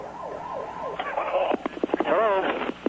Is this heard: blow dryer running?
no